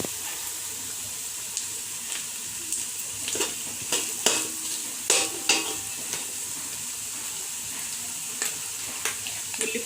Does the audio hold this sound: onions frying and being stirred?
yes